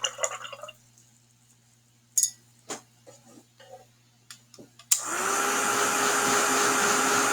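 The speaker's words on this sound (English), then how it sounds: "now I'm going to rinse my brush" Paintbrush rinsed in a water container while painting snow bells: sparse small clicks and taps from the brush against the container, followed by a sudden steady rushing, splashing noise that continues to the end.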